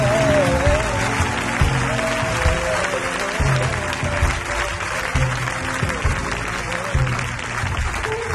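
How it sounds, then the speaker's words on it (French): A church congregation claps continuously and loudly in a large hall, a dense sustained round of applause with crowd voices mixed in. "acclame, acclame, acclame."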